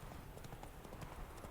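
Horse hooves clip-clopping in The Witcher 3, a steady quick gait of repeated close thuds over constant background game ambience.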